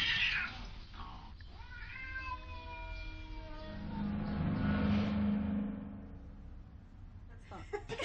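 Cats meow in a drawn-out, wavering caterwaul that rises and falls for several seconds, fairly close, with a low rumble underneath and a few faint clicks at the end.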